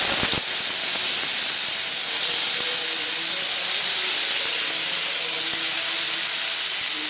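Flattened rice (aval) roasts in a pan, producing a loud, dense, steady hiss that runs unbroken from start to finish after a couple of sharp clicks at the outset.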